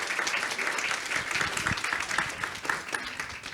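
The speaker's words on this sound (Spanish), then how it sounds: "Un aplauso para empezar, como para darnos ánimo." An audience applauds to open a live-streamed talk on human papillomavirus, a lively burst of hand clapping from a modest crowd, close and continuous throughout, with a faint voice briefly underneath.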